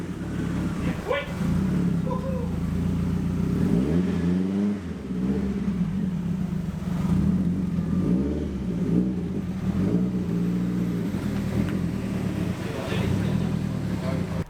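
Twin-turbo Ford Fiesta engine revving hard on a dyno, loud and close, with rising and falling pitch sweeps through repeated pulls and a steady roar underneath, while people talk over it.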